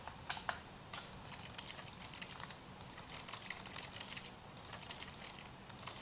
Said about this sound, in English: Sounds like a keyboard.